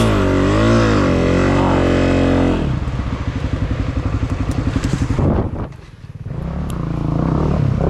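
A Honda CRF250F dirt bike suffering mechanical failure during a hare scramble revs loudly, then drops into a rough, uneven chugging putter that briefly sags and recovers, close and dominant throughout.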